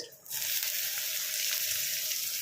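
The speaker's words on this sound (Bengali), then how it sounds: "করলাগুলো এবার ভালো করে ভাজবো, একটু আঁচটাকে জোর দেবো, দিয়ে এটাকে একটু ভালো করে ভাজবো" Chopped bitter gourd, soaked in salt water and drained, drops into hot oil for a potato and bitter gourd curry, bursting into a loud, steady, close sizzle that holds without a break after a brief quiet start.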